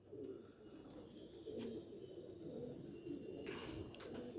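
A male breeding pigeon with a clipped wing coos softly and steadily, a low continuous murmuring with a few brighter chirps over it, close by and fairly quiet.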